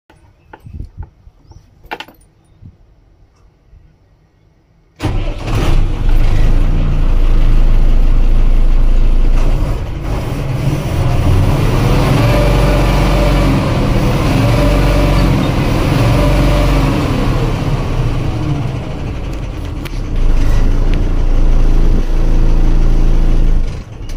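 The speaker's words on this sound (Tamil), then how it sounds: "ஸோ வண்டியுடைய என்ஜின் இப்போ ஸ்டார்ட் பண்ணி காமிக்கிறோம் பாருங்கள்." A 12-wheel diesel lorry engine starts with a sudden loud crank and catch after a few faint clicks, then settles into a steady, heavy, rumbling idle close by for around twenty seconds.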